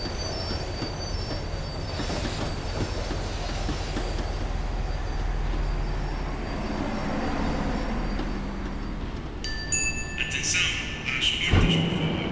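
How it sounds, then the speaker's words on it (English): A tram slowing down in the video game Max Payne 3: continuous rolling rail rumble with squealing wheels and bright metallic screeches as it brakes, heard up close and loud. "The tram was slowing down, and I'd only just gotten on board."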